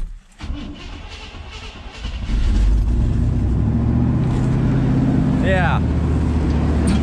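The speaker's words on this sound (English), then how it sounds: "This sucker's idling on its own on the original fuel system." An old Chevy squarebody truck cold-starts after sitting in a pasture and settles into a rough, steady idle on its original fuel system, loud and close after a brief crank, with someone briefly speaking over it.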